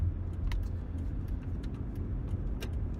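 A Mercedes E320 rolls along on a test drive, a low steady engine and road rumble inside the cabin with occasional light rattles and clicks, no voices.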